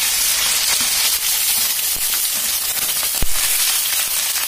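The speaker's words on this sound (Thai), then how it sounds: "เราก็จะมาทอดหมูกันแล้วค่ะ" Pork sizzling in a generous amount of oil in a pan, a steady dense frying hiss with small crackles and one sharp pop near the end, heard up close with no talking.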